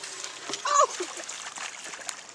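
Water poured out outdoors onto grass, giving a brief splash and splatter near the start amid quiet background sounds and distant voices.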